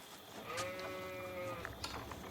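In Age of Empires, a single sheep gives one clear, wavering bleat lasting about a second over a soft game background hum, fairly quiet.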